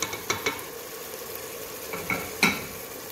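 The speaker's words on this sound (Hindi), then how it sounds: "अब इसको हम भूनेंगे।" Mutton liver frying with onions in a pan makes a low, continuous sizzle under a few sharp clinks and scrapes of a spoon against the pan, close and fairly quiet.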